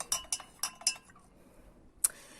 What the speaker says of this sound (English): It's nice to mix with a lovely spoon there.